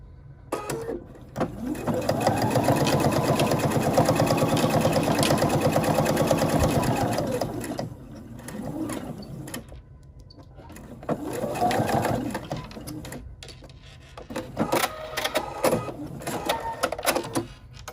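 A sewing machine stitches two sides of a fabric Christmas ornament together in a long, steady whirring run, then a pause and shorter bursts of stitching, followed by faint handling clicks.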